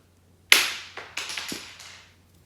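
Lego blocks thrown onto a Lego Star Wars battle scene land with a sharp plastic clatter, then several smaller scattered clicks and rattles fade over about two seconds.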